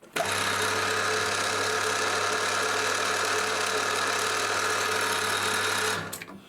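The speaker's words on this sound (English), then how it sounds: "First of all I'll centre drill." A steady, whirring machine drone of a centre drill cutting metal runs continuously for several seconds at close range, then winds down at the end.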